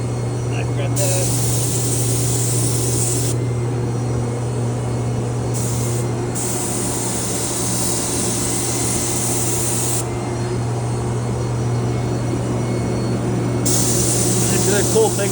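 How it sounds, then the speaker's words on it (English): A pressurized-cup HVLP spray gun applies primer to furniture cabinets, giving a loud, steady hiss that switches on and off in several bursts over a constant low hum. "The cool thing about these cups pressurized like this, you can spray upside down, which is so nice spraying cabinets."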